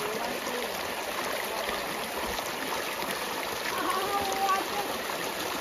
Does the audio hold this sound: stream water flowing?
yes